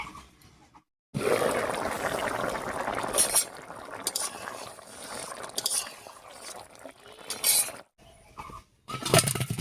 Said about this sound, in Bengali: এবার ঢাকা খুলে নামিয়ে নিচ্ছি।